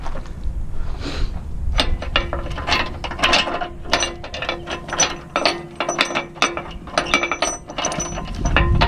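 A ratchet binder tightens load chains on a Kenworth heavy-haul truck, giving a close series of sharp metallic clicks and clanks in an uneven rhythm, with no talk.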